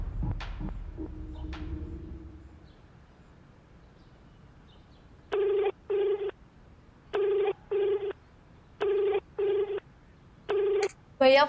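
A phone call rings out unanswered: after some faint earlier sounds, a ringback tone repeats in evenly spaced double bursts, about five cycles, clear and close, with a brief voice-like sound at the end.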